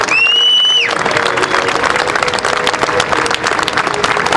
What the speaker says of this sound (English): I would ask that you join me in a round of applause for all those who serve, not only in our military,